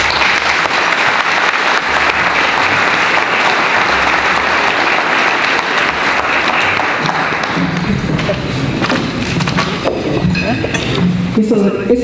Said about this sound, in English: It's okay to clap really loud for our presenters